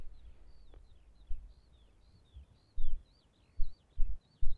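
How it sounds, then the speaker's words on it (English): Faint, repeated high chirps from a small bird at a wild camp near Tarn Crag in the Lake District, a steady string of short calls over low rumbling background noise and a few soft thumps. "I hope you can hear them birds as well as I can."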